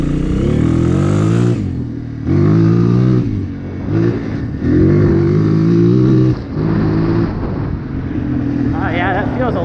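A Honda CRF230 dirt bike engine, running slightly rich after a bogging fault, revs up close and loud in several bursts, rising and falling between short idle dips.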